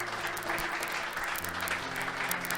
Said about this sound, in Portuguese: Aplaudo a ele!